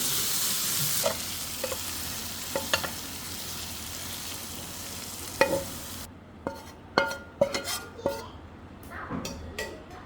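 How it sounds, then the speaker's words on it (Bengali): Long bean bhaji is stir-fried in a pan, with a continuous close sizzle under repeated sharp scrapes and clinks of a spatula against the pan that grow more frequent toward the end. "আমি একসাথে ভালো করে মিশে নেব ভাজিটা এই যে আমার ভাজিটা হয়ে গেছে একেবারে আমি ভালো করে ভাজা ভাজা করে নিচ্ছি"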